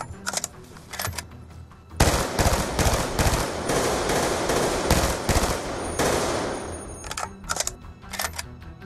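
Full-auto fire from the SWAT 556 rifle in Black Ops 2, loud rapid bursts of shots with a long sustained volley in the middle and shorter clusters before and after.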